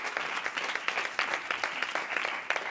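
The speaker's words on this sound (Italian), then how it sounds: "Un applauso ai gatti." An audience at a stand-up comedy roast in Italy claps steadily in a close, lively burst of applause with no talking.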